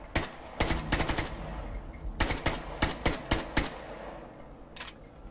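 Gunfire at targets in the shooter game Caliber comes as loud, close bursts of rapid automatic shots with brief pauses between volleys and no talking.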